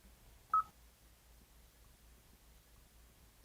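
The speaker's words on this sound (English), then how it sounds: "Touch the contact name or number to initiate a call." A single short telephone dialing tone from Apple CarPlay as a call starts in a car, a quick clear beep over a low steady hum, then quiet.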